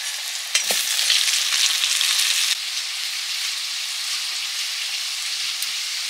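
Potatoes dropped into hot oil burst into a loud, close sizzle that roars for about two seconds, then settles into a steadier, quieter frying hiss.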